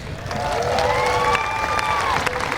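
Audience applause at a grand opening ceremony honouring a marching band, orchestra and choir: steady clapping and crowd noise carry through, with sustained whistling tones sliding over the top.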